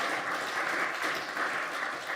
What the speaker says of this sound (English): So let's have a round of applause for all those ensembles.